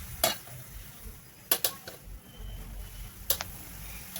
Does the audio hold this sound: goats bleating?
no